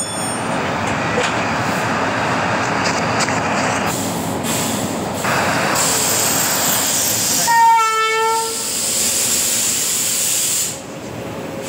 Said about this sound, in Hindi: तो गाइस ट्रेन बहुत ही ज़्यादा साउंड कर रहा है